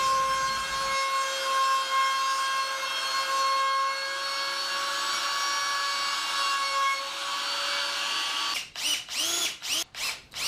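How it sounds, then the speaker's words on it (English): A power router whines steadily at high pitch while rounding over the edges of a wooden door-frame board, then a series of short rhythmic cutting bursts near the end. "Next, I use a router to lightly round over the edges that will be exposed."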